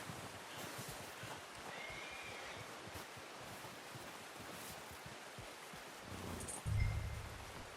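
A horse in the game Red Dead Redemption 2 whinnies briefly near the end, after a stretch of rustling outdoor ambience with soft wind and movement, and no talking.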